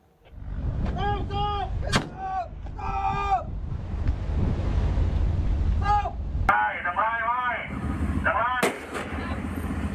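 Warning shots fired during the seizure of a Vietnamese fishing boat in Natuna waters, Riau Islands: a few sharp, loud shots spaced seconds apart over wind and sea noise, with people talking throughout.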